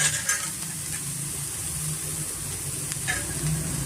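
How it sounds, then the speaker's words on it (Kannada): Onions mixed with turmeric and ginger-garlic sizzle in a pan on medium flame, a steady close crackle with a few soft scrapes and clinks of a stirring spoon, and no talk. "ಮೀಡಿಯಂ ಫ್ಲೇಮಲ್ಲೇ ನಾವು ಫ್ರೈ ಮಾಡ್ತೀವಿ ಈರುಳ್ಳಿ ಫ್ರೈ ಆಗೋದಕ್ಕೆ"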